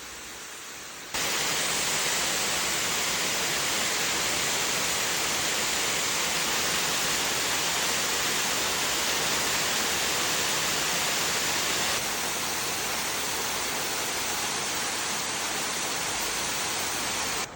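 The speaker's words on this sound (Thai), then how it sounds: "มาฟังเสียงน้ำตกกันอีกครั้งหนึ่งนะคะ" A waterfall in a Japanese forest pours with a constant, dense rushing roar, heard up close and unbroken, easing slightly in level toward the end.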